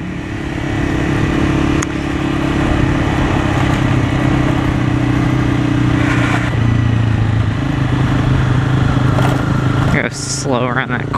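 A Honda CBR250R motorcycle rides through town, its engine droning steadily up close with shifting pitch and a brief squeal near the end, while a rider's voice talks over it.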